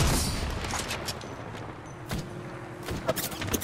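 Sniper gunfire in the Apex Legends video game cracks out in a few sharp, separated shots amid game noise and background clatter, moderately loud.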